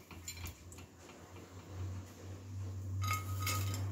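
Light clinks and taps of crispy fried cluster beans dropping from a griddle onto a plate, a few scattered crisp impacts over a low background hum.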